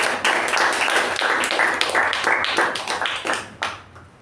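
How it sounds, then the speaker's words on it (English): Guests at a Toastmasters club meeting give a warm round of applause, dense and steady for several seconds. It is close and fairly loud before thinning into scattered last claps and fading out. "Let's give her a sound round of applause"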